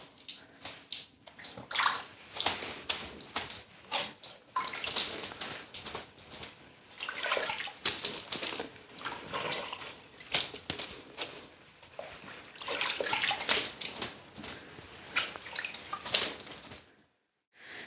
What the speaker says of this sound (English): this stuff's thirsty, so I just have to water the floor once